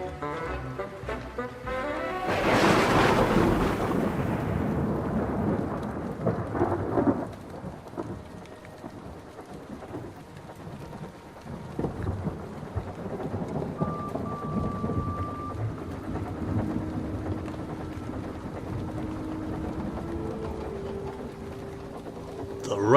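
Heavy rain pouring steadily throughout, with a loud thunderclap near the start that rumbles away, close and continuous.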